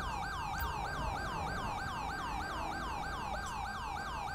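An ambulance siren in Grand Theft Auto V wails in a fast, repeating up-and-down sweep, steady and fairly faint over a low rumble of traffic.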